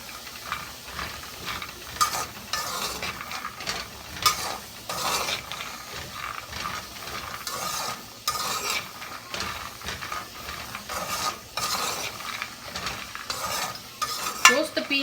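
Peanuts dry roasting in a pan over a medium flame, stirred continuously, make a dry rattling, scraping clatter in irregular bursts. The sound is fairly close, with no voices.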